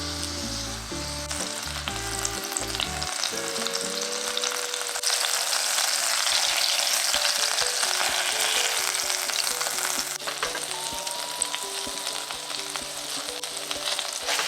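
Butter sizzles and fries in a hot pan while cooking hamburg steak for loco moco, a loud continuous crackling hiss with some stirring and clinks early on, sustained without talk.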